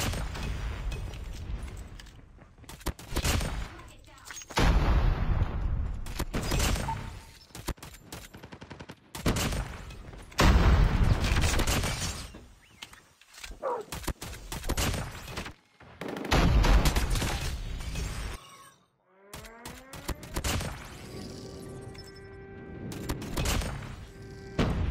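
Rapid gunfire from the 50 GS pistol in the mobile shooter Call of Duty Mobile, dense loud bursts of shots repeating through most of the stretch with brief gaps, plus some mechanical clicks near the end.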